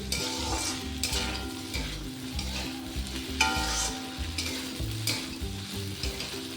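Okra softening in a hot pan for a doi bhindi, a bright, dense sizzle under repeated scraping and stirring strokes of a spatula, close and steady throughout with no voices.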